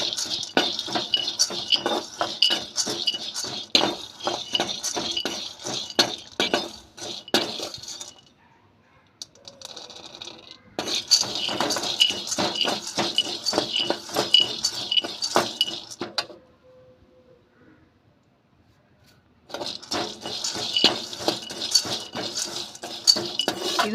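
Ingredients for a healthy laddu dry-roast in a pan over a low flame. A spoon or spatula scrapes and clinks against the pan in busy stretches, with short quiet pauses between them.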